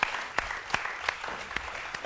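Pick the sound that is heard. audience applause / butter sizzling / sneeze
audience applause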